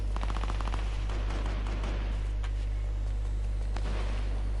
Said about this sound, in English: SMG shots are now going on